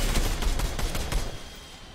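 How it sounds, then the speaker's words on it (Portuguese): Rapid gunfire from a video game crackles in dense, overlapping bursts, loud at first and tapering off toward the end, with no voices over it. "É o Goku de verdade, caiu ainda com tiro"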